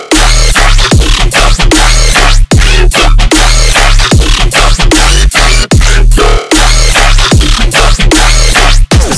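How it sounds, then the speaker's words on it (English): Loud dubstep track, with chopped, heavily distorted bass wobbles and hard electronic drum hits in a driving stop-start rhythm, the sound cutting out sharply between phrases. "Dubstep."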